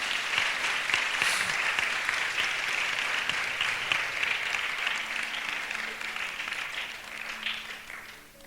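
A church congregation claps together during a fasting prayer service, forming a dense, sustained wash of applause that fades slightly toward the end, with a few voices faintly mixed in.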